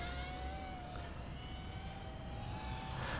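A 6S HGLRC Petrel 132 FPV toothpick racing drone whips around near a small house, its motors giving a continuous high buzzing whine that shifts in pitch as it maneuvers, with no talking.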